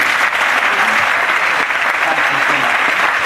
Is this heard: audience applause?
yes